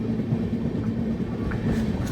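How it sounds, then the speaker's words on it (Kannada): A train rolls into Yeshwantpur railway station in Bengaluru on an early morning ride, heard from on board as a continuous low rumble and hum with a steady mechanical drone. "ನಾವೀಗ ಯಶವಂತಪುರ ರೈಲ್ವೆ ಸ್ಟೇಷನ್ ಎಂಟ್ರಿ ಆಗ್ತಾ ಇದ್ದೀವಿ."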